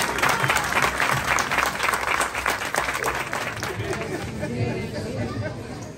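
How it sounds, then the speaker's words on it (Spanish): A crowd applauds at a public gathering in the coffee town of Coatepec, Mexico, with dense, steady clapping mixed with chatter that fades slightly toward the end. "vamos a dar un aplauso, por favor, a todos"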